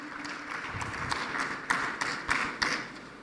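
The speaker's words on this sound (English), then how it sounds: "Can we give them a warm African round of applause just to give them some energy?" An audience at an African energy summit claps for speakers heading to the podium, with dense, moderately loud applause carrying a few sharper individual claps.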